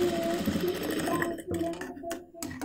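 A sewing machine stitches along a folded double-turned fabric edge of a front-open collar kurti, running in a continuous close whir that stops and restarts briefly toward the end.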